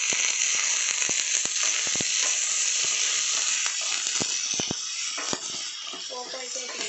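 A pressure cooker weight hisses steadily and loudly while thotakura pappucharu cooks, a dense continuous steam jet with scattered clicks and rattles, under brief talk.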